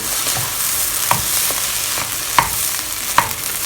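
Fried rice being stirred in a pan after light soy sauce goes in, with a steady sizzle underneath and a few sharp scrapes and clacks of the utensil against the pan, close and alone.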